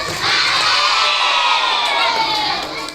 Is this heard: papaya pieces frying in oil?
no